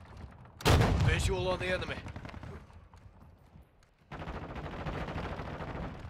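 Gunfire in Call of Duty: Modern Warfare II, with a loud burst of shots up front, then a lull and a steady stretch of rattling fire, while a game voice speaks over the opening.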